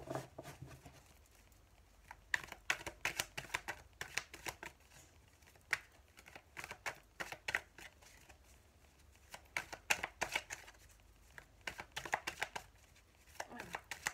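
A tarot deck is shuffled by hand in rapid bursts of crisp card riffles and slaps, close and fairly quiet, with short pauses between runs and faint talking.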